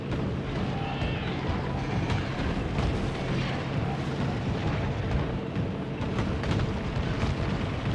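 Turrets fire nonstop at enemies in the video game Factorio, a dense, loud, continuous rumble of rapid shots and blasts with no pauses.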